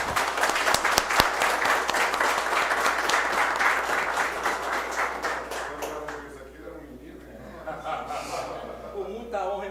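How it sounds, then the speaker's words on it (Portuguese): An audience applauds at a formal municipal council ceremony in Itapebi, Bahia, with sustained loud clapping that fades after several seconds as a voice begins speaking. "Uma salva de palmas, por favor."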